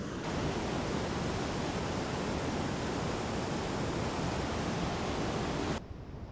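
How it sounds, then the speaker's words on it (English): A large waterfall along the NWT Waterfall Route rushes in a dense, constant roar, loud and unbroken for several seconds before cutting to a quieter background. "when you get a waterfall like this one, it's kind of hard to beat"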